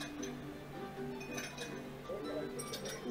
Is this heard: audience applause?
no